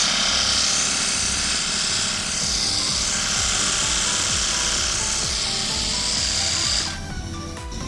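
A cordless 48V pressure washer runs with a loud, steady motor and pump whine and hissing spray, continuous and close, then abruptly cuts out near the end, leaving quieter background noise.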